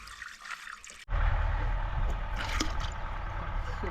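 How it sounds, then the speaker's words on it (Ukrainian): Water rushes loudly and steadily into a sprayer pump tank after a short quieter stretch, a continuous close pouring gush. "Заливаємо воду в помпу."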